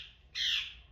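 A single short squawking call from a pet king parrot, sounding close and clear indoors.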